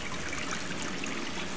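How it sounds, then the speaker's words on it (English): A toilet flushing in the video game Gone Home, a steady close rushing and trickling of water with no talk. "Let's flush that toilet."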